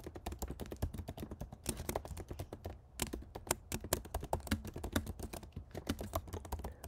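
Fast typing on a computer keyboard, a busy run of close, crisp key taps with short pauses between bursts and no voices.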